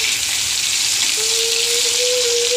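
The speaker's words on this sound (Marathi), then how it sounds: "आता ह्याला थोडेसे चांगले फ्राय होऊ देणार" Mustard seeds, tomato and green chilli fry in oil over low gas as a tempering for dal, making a continuous loud hiss and sizzle, joined midway by a thin steady whine, with no voices.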